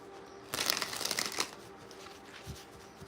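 A deck of tarot cards is riffle-shuffled nearby, a crisp rapid flutter lasting about a second, then a few soft taps as the cards settle.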